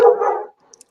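Dogs bark in a short, loud burst close by, then fade to near silence with a few faint high chirps and clicks trailing after.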